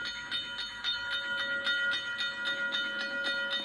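A black diesel Intercity Express train passes, giving a steady tone with a regular, rhythmic clickety-clack of wheels at moderate volume, and no voices.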